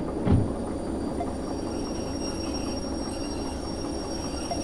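A train runs on rails in the video game Derail Valley, a steady rumbling rolling noise with a brief knock near the start and a faint high whine carrying through.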